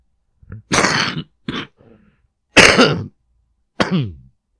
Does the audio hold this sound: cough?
yes